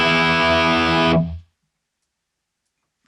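An electric guitar through a BOSS GT-1000 Marshall amp model with a V30 cabinet gives a loud, distorted chord that rings about a second, then is cut off sharply into silence.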